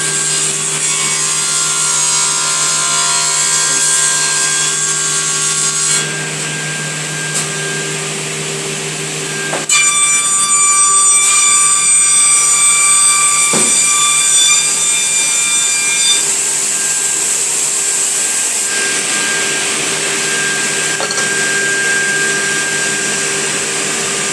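A woodworking edge-lipping machine running in a workshop, loud and close, with a continuous whining mechanical drone and grinding tones that shift in pitch as the workpiece feeds through, and no talking.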